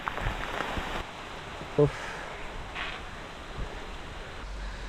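Steady monsoon rain in Agumbe, Karnataka hisses softly in the background, a continuous wash of falling water with a brief faint knock partway through and no voices.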